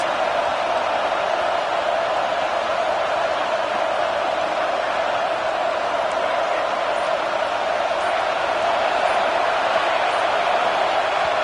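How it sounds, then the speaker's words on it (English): A packed football stadium crowd at a Michigan versus Oklahoma game roars in a continuous, loud wall of noise while the home defense is on the field, steady with no breaks. "Listen to this crowd just shaking the girders of this place, trying to help their defense."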